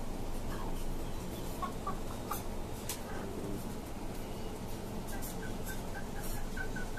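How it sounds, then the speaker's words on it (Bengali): Chickens and a rooster cluck and call in a busy rooftop farm on a five-storey building, short bird calls scattered over steady background noise, with no speech. "এই যে আমার মোরগটা, এই হচ্ছে আমার টাইগার মোরগটা।"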